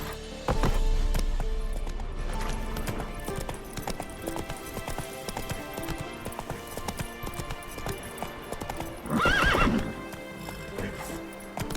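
Roach, the horse in The Witcher 3 video game, clip-clops steadily at a run for the whole stretch, with a loud neigh near the end.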